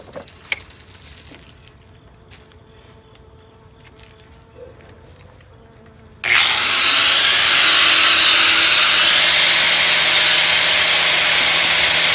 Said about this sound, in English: So we're going to have to grind this side of the link off and remove it.